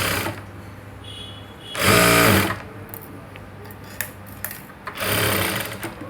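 A sewing machine stitches blouse fabric that has been double-folded at the edge: two loud, steady whirring bursts of stitching, separated by a quieter stretch with faint clicks and handling noise, with no talking.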